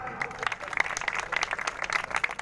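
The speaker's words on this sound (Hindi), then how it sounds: "जोरदार तालियां।" Applause from an audience at a Delhi Dhobi community gathering, a steady patter of many hands clapping at moderate volume for a couple of seconds with no clear talk over it.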